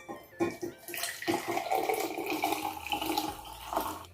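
Boiled clove water poured through a strainer: a continuous soft splashing and trickling stream lasting a few seconds, fairly quiet and close, with no voices.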